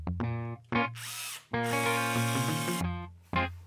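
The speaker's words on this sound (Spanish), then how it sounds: "nos ayudamos con una broca de 3 mm para hacer un agujero" A power drill with a 3 mm bit bores a hole for a bolt in a storage rack built for 1/10 scale RC cars, whirring in several short bursts and one longer run, close and loud, with no speech.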